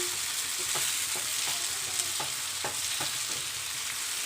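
Onion, tomato, four cloves and a small piece of cinnamon sautéing in a pan give off a steady close sizzle, broken by regular scraping strokes of a spoon as the mix is stirred.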